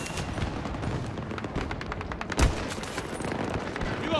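Rifle fire in Battlefield 2042 gameplay, a dense stream of rapid sharp shots with one heavier boom partway through, loud and close, set against constant battle noise.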